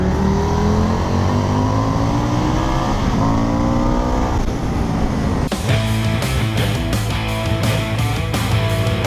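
An Indian FTR 1200 S motorcycle engine revs loudly and steadily, its pitch climbing in repeated sweeps before shifting into a choppier, pulsing pattern in the second half.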